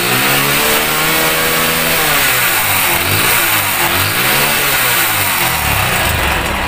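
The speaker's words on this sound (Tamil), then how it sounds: "வண்டி பாருங்கள், அருமையாக ஸ்டார்ட் ஆகிடுச்சு." A Hero Splendor Plus motorbike engine runs steadily just after starting, loud and close, with a continuous mid-pitched putter and small rises in revs, no talking.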